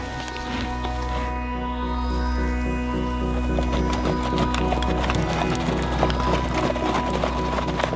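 A herd of horses in Iceland moves with steady clip-clop hoofbeats and occasional snorts over a constant low rumble, fairly close and continuous.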